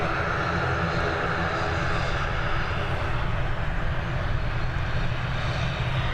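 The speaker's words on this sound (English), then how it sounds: "we've got this ATR that's been sat there waiting forever and is now leaving us, heading over to Edinburgh" ATR turboprop airliner leaving Dublin Airport for Edinburgh, a steady, loud engine roar holding broadband and low rumble throughout, with no voices.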